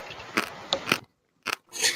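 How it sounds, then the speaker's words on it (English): Someone bites into an insect, and a sharp crunch sounds in several close, loud bursts separated by brief silences, with no talking. "Ooh, crunch."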